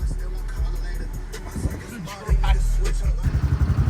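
A gas-powered motorbike rides down toward the beach, its engine droning steadily under road and wind noise, then swelling louder as it accelerates near the end.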